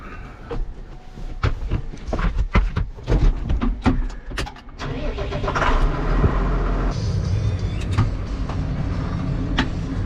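A loader tractor's diesel engine cranks with rapid clattering knocks, then catches and settles into a loud, steady idle rumble close by.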